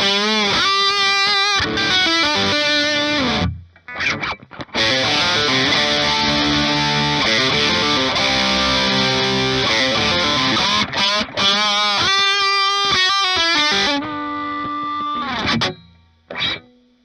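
A Reverend Reeves Gabrels signature electric guitar plays heavily distorted chords and sustained notes, loud and alone, with a few short pauses and a trailing fade near the end.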